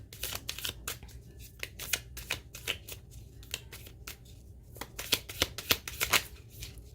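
Shuffling a Moonology oracle card deck, close and quiet, with a steady stream of crisp card riffles and flicks that thicken into denser bursts near the end, with no voices.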